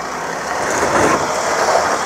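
A long-wheelbase off-road vehicle crawls slowly over a bump, its low steady engine rumble rising slightly and holding near the microphone with no voices.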